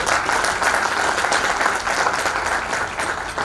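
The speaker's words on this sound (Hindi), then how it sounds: "मैं चाहता हूँ कि इनके लिए आप जोरदार तालियों से" An audience at a jewellery trade programme in Indore gives loud, continuous applause, a dense crackle of many hands clapping at once with no voices over it.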